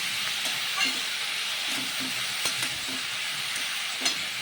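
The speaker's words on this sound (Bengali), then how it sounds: "নেড়ে চেড়ে নিচ্ছি এবার আমি এটা এই শশাগুলো নেড়ে চেড়ে" Cucumber pieces being stirred in a hot pan for a turmeric-seasoned cucumber ghonto, with a steady soft sizzle broken by scattered spoon scrapes and light clicks.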